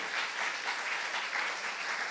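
Congregation applause during a Korean church youth-service sermon: a steady, dense wash of many hands clapping at once, sustained evenly throughout with no voice over it.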